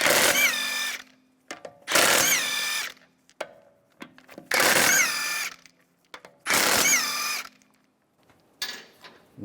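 A 17mm socket on a power tool spins lug bolts off a 2004-2010 BMW X3 in four loud whirring bursts of about a second each, broken by clicks and clanks of handling between them, close and with no talk.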